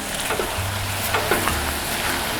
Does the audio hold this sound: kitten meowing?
no